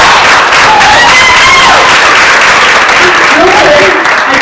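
Audience applause at a radio station host's self-esteem talk as a speaker named Sandy is welcomed, steady loud clapping from a crowd throughout, with a few voices calling out over it.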